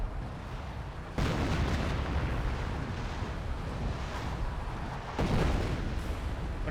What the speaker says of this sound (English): .25-pounder barrage here.